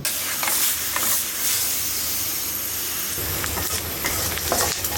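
Onions browning in a pan with salt, garlic paste, turmeric, coriander and cumin, giving a steady, continuous sizzle and hiss close by, with no one talking.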